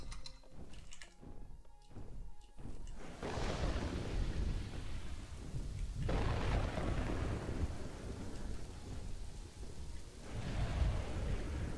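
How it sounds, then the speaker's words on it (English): Steady rain with deep rolling thunder in Kingdoms and Castles, starting with scattered crackles before heavy continuous downpour and repeated booming rumbles, loud and close with no talking. "At least it's raining?"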